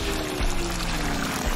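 Water pours over a person in one steady, close gush lasting under two seconds, a continuous splashing flow with no talk.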